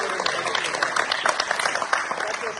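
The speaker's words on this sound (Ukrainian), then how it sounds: "Аплодуємо" Applause for wrestlers honored at an indoor ceremony for their success at the U-23 European Championship: a continuous patter of many hands clapping at moderate loudness, with voices talking over it.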